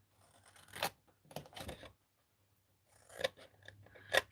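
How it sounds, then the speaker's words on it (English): Scissors snip slits into paper for a craft box, giving several close, crisp cuts in short bursts separated by brief pauses. "So cut the slits on this one."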